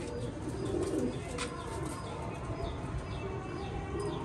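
Pigeons coo softly with occasional short chirps over a steady background hum, at moderate volume and fairly close.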